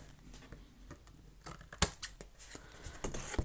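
Scissors cut paper in a quiet room with soft, sporadic snips and rustles, one sharp cut standing out among the lighter clicks.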